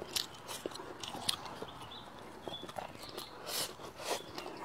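Someone chews a mouthful of stir-fried velvet antler mushroom with pork belly, producing close, repeated soft bites and moist crunches at an irregular pace, with no talking.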